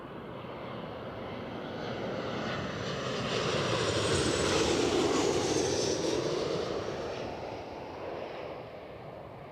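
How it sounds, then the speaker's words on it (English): A 16-year-old Jet2 Boeing 737-800 airliner arriving at Newcastle Airport, its engine roar swelling steadily to a loud peak near the middle, then easing slightly as it passes close by, with no talking. "Inbound aircraft is a Jet2.com from Alicante, departed 2 hours 37 minutes ago. Aircraft is a 737-800"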